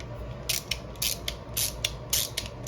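Quick bursts of ratchet clicking from a Pittsburgh extendable ratchet wrench with a socket fitted repeat in a steady back-and-forth rhythm, close up and fairly quiet, with no voices.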